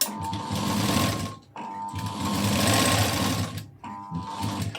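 A sewing machine stitches a round front neckline on a blouse, running in three close bursts with a steady mechanical whir and rapid needle clatter, separated by short pauses.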